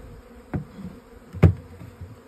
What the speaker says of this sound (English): Now you can see there's a bunch of loose bees on the outside.